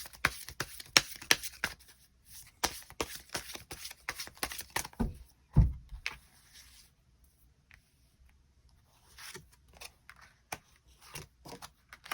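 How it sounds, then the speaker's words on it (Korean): Tarot cards being shuffled up close in a series of quick crisp riffles and flicks, busiest in the first six seconds and then thinning to scattered soft taps and slides in a quiet room. "추가 카드 뽑아보도록 하겠습니다"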